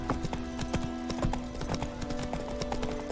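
Horse hooves clip-clop steadily on a road in the video game The Witcher 3, a quick, even rhythm of crisp close hoofbeats over a faint ambient background hum.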